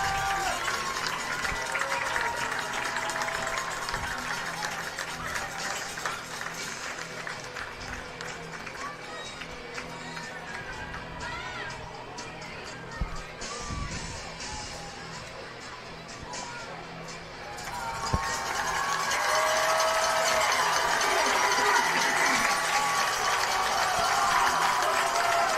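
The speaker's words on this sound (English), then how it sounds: "And the home crowd is loving it." The home crowd at a high school football game, Andrean at Hobart, cheers and claps as the team runs onto the field, a broad roar that swells louder near the end under an announcer's talk.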